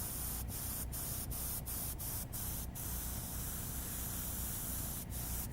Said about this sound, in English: I'm going to take some of this shading gray now and spray it into the picture